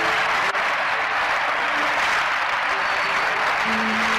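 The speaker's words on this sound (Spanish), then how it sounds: "también les quiero pedir un aplauso para ellos" Audience applause for a flamenco band's members being introduced on stage, a dense steady wash of clapping at a loud, even level throughout, with a faint tonal hum late on.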